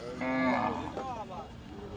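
A large bull at a cattle market gives a long, close, loud moo that rises and falls, followed by a second shorter low, with faint crowd noise behind.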